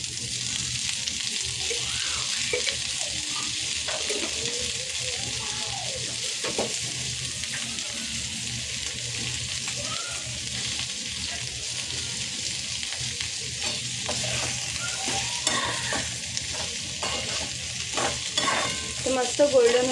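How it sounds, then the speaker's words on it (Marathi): Onion, garlic and ginger fry in oil in a pan for a rustic Maharashtrian chickpea curry. A steady, close sizzle runs throughout, broken by frequent scraping stirs of a spoon. "इथे मी कांदा, लसूण आणि अद्रक तिन्हीसुद्धा जिन्नस टाकून घेतलेत, हे सुद्धा मस्त भाजून घेऊया"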